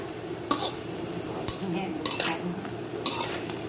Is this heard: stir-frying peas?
yes